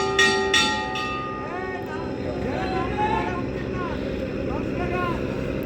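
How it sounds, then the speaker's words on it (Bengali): The passenger launch Pubali 7 swings around at a river ferry ghat at dusk, its engine droning low and steady beneath someone talking, with a couple of sharp knocks early on. "লঞ্চটি কিন্তু ব্যাঘাট দেওয়ার উদ্দেশ্যে ঘোরাচ্ছে।"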